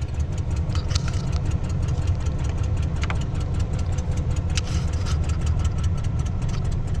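A 1989 Ford Ranger engine just after a cold start, running steadily with a rough, uneven idle and faint knocking ticks, close and continuous throughout.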